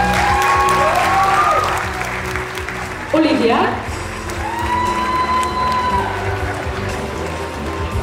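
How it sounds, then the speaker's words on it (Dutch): Applause and cheering from a fashion awards audience fill the air, with a presenter's voice and some vocal calls over the crowd noise. "Uw applaus voor Birgit"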